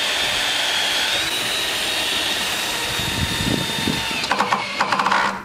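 A drill whining while screws are driven into the wooden spars of a summerhouse base, a steady high drone followed by short bursts of drilling toward the end.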